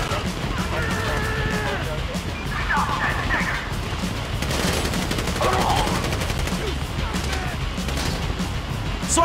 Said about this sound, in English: So I guess we shooting our way out of here.